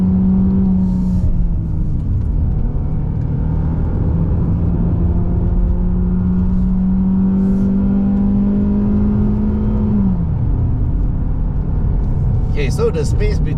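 A 2.0-litre Mazda 3 sedan driven on a mountain road in sport mode with manual shifting, its engine holding a steady droning pitch that rises, then drops as a gear is changed, loud and close inside the cabin.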